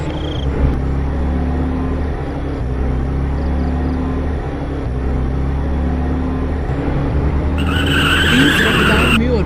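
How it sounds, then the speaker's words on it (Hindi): A car speeding down an empty road at night, loud rumbling engine with long tire-skidding squeal building across the clip, close and dominant, ending in a brighter high screech. "तभी सामने से एक गाड़ी आती है।"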